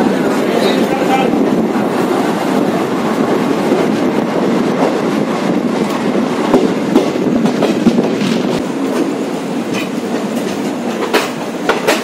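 A Ganpati special passenger train pulling out of Thane platform 7 on the run toward Kudal, rolling with a steady rumble, irregular wheel clicks and rail clatter, close and loud, with voices mixed in.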